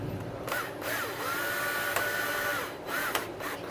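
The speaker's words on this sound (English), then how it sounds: "Breaking out the power tools, that's just too much twisting." A power tool fastens a part on a YZ125 dirt bike in short whirring bursts, a motor whine rising and falling as it spins up, stops and restarts, close and clear with no talk.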